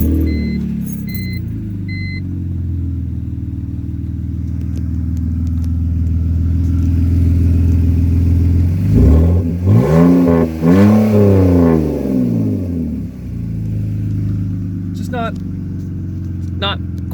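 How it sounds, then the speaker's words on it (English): A 6-cylinder car engine idles with a low, steady rumble, then revs up sharply a couple of times before settling back to idle. "This is a 6-cylinder engine, of course, and it just kind of makes it sound a little bit like a Tacoma."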